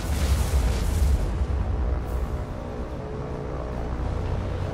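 Aircraft strafe an undefended hospital ship in the naval wargame War on the Sea, producing a rumbling barrage of deep booms and gunfire bursts that is loud at first, then settles into a heavy low roar.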